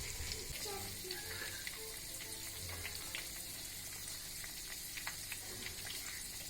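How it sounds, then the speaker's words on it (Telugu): Batter-coated Amritsari fish frying in oil over a medium flame, giving a steady, quiet sizzle and crackle with scattered pops throughout. "దీన్ని మీడియం ఫ్లేమ్లోనే ఫ్రై చేసుకోవాలి, లేదంటే పైన వెంటనే కలర్ వచ్చేసి లోపల పచ్చిగా ఉండిపోతుంది."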